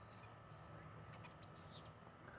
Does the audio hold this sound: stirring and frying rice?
no